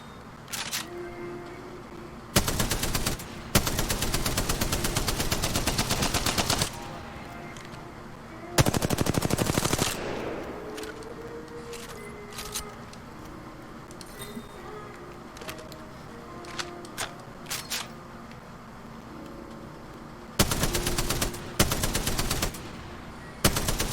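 Bursts of Spitfire machine gun fire in a video game, several sustained volleys of rapid automatic shots separated by quieter gaps with scattered single shots and faint background noise.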